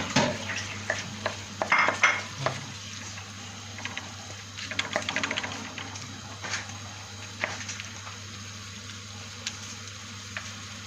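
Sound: kokoreç frying with onions in a pan

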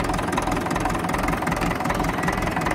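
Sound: 1954 tractor engine idling while warming up

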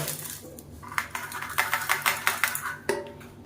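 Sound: roasted horse gram and chillies being added to a mixer jar

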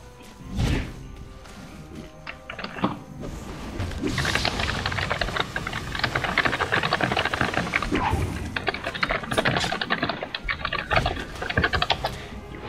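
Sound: typing on a computer keyboard

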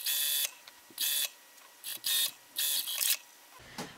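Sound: sewing machine sewing a T-shirt neckband

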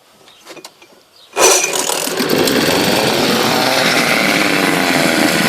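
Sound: small two-stroke engine starting and running

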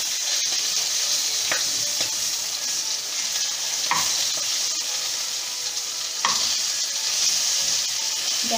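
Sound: stuffed red chillies frying in a covered pan

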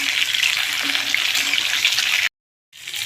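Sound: pointed gourd frying in hot oil

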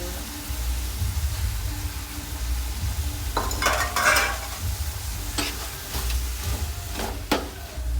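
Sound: ginger garlic paste frying and stirred in pan

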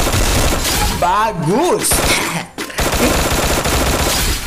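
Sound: gunfire in a shooting video game

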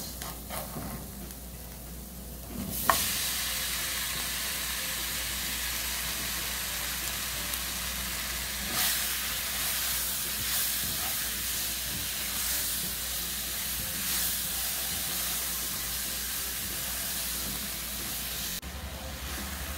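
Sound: bananas with bacon sizzling as they fry in a pan

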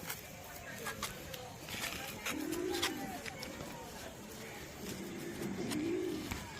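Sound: pigeons cooing

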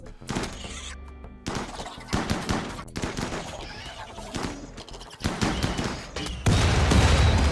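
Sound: grenade launcher fire in Rimworld video game

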